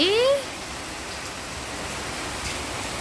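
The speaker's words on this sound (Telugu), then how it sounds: "ఈరోజు మళ్ళీ వర్షం చూడండి, ఎంత పెద్ద వర్షమో." Steady, dense wash of rain hissing evenly throughout, with a brief rising whistle-like tone at the very start.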